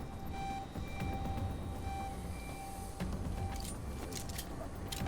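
An alarm in Deus Ex: Mankind Divided, set off by shooting a security camera, repeats steady tones over loud game background noise, with no one talking.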